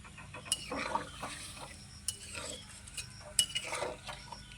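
A spoon stirs dried loitta fish curry with potatoes in a pot, making repeated soft scraping strokes and light metallic taps against the pot.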